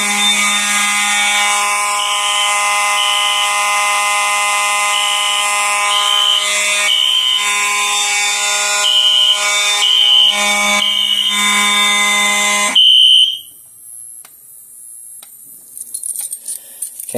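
Loud, continuous fire alarm horns and strobes on a Notifier NFS2-640 system test blare together with a pulsing high tone, then abruptly stop, leaving a thinner electronic chirp and faint clicks.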